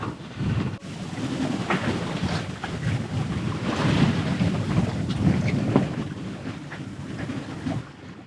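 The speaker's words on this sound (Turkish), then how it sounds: "Ama şimdi bakın sadece deniz ve rüzgarın sesi." Rushing wind buffets the microphone over the wash of Mediterranean sea water against a fast-moving sailboat, steady and fairly loud throughout, no voices.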